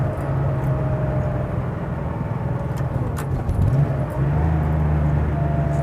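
A 1989 Porsche 911 Carrera engine pulls steadily in second gear from inside the cabin, a loud continuous drone with a shifting engine note and some road rumble.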